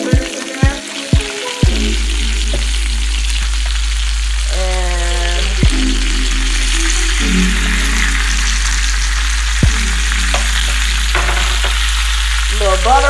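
Turkey sausage fries in a pan with a loud, steady crackling sizzle, broken by several sharp clacks and scrapes of a utensil against the pan and a low hum underneath.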